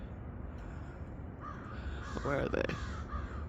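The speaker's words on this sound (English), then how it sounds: "The crows are cawing." Crows caw a few times at moderate distance over steady outdoor background noise, while a person speaks briefly.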